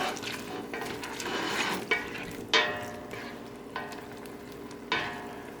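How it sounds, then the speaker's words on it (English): A soy sauce and sherry mixture is stirred into sizzling pepper steak in a pan, with a continuous hiss and several louder scraping strokes from the utensil, close and fairly faint. "Let's add the soy sauce sherry mixture. Stir that in really good."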